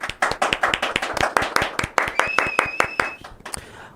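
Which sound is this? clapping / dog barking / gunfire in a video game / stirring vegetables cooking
clapping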